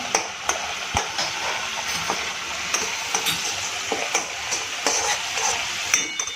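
Finely chopped garlic hits a frying pan of crispy fried gravy ringan, sizzling steadily and close up, with spatula taps against the pan at a regular pace.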